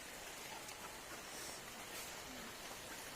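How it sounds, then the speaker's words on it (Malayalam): Steady rain falls over a farm paddy field in the dark, a soft, even hiss that is faint and continuous, with no voices. "ഇവിടെ മഴ പെയ്യുന്നുണ്ട്"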